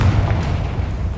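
A Confringo blast spell bursts in Hogwarts Legacy, a single loud, deep boom that opens the moment and rumbles away over the next second.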